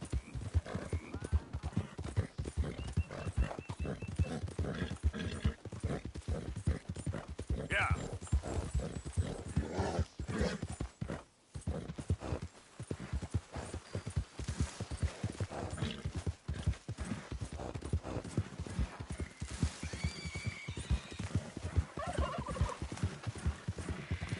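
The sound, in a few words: horse galloping hooves in the video game Red Dead Redemption 2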